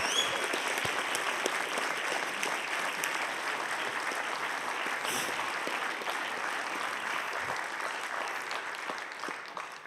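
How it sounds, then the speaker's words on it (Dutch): Steady applause from a large audience, sustained clapping filling the room for the whole stretch and tapering slightly at the end. "En daar krijg je een applaus voor."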